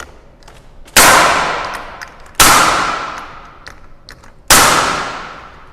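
Three sharp, loud nail-gun shots fire into a wooden stile at evenly spaced intervals, each bang decaying briefly before the next.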